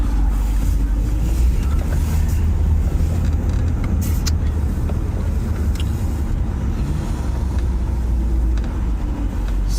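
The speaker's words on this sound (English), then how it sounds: "A lot of cars here." Steady close traffic on a patrol street, a continuous loud low rumble of passing cars with a few brief sharper noises, no talk.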